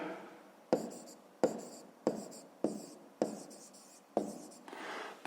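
A pen writes on paper during a Ukrainian fifth-grade math lesson, making a series of quick, close scratchy strokes about every half second, quiet and with no one talking.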